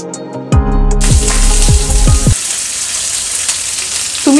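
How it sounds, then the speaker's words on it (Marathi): Stuffed red okra laid into hot oil in a pan, a loud sizzle bursting in at once and crackling steadily close by, with a few clinks at the start and no talking. "एक एक करून ही भरलेली भेंडी आहेत ही आपण पॅन मध्ये ठेवूया।"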